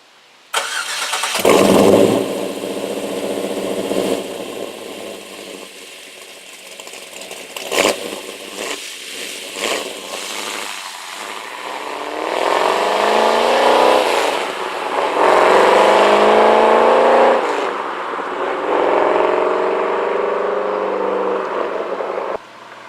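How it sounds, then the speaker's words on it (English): A car engine with a newly installed Legend LGT-700 5-speed transmission cranks and catches, idles roughly, then revs up repeatedly in loud, rising sweeps close by, with no talking. "get to the point where we can fire this thing up and take it for a run"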